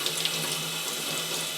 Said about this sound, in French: je vais rincer ça sous un jet d'eau pour en en enlever le plus possible